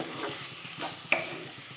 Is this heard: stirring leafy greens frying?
yes